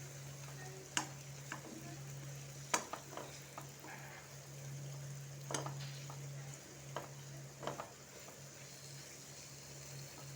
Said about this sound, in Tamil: இப்போ நல்லா எல்லாத்தையும் கலந்து விட்டாச்சு.